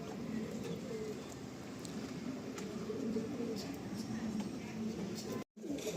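A male Andhra pigeon coos softly in a loft amid steady background noise, with a brief dropout near the end.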